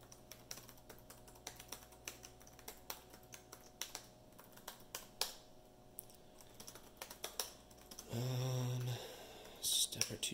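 Rapid, irregular keystrokes on a computer keyboard as someone logs in and types a password on a Raspberry Pi setup, close and fairly loud, with a brief burst of other noise near the end.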